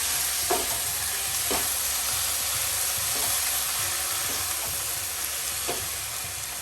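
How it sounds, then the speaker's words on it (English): Chopped tomatoes with ginger and garlic fry in a pan for misal, giving a loud, steady sizzle and hiss with a few soft stirring scrapes, no voices. "I'm going to add the tomatoes now, and I'm going to season this with a little bit of salt"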